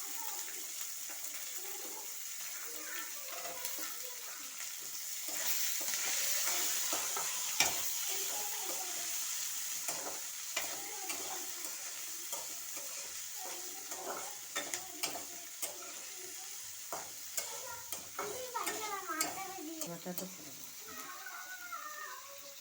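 Onion and carrot frying for upma, with a steady hiss of sizzling oil and intermittent scraping stirs of a spoon in the pan, while a voice speaks over it and a cat meows now and then.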